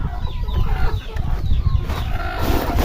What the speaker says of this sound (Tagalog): May mga manok tayo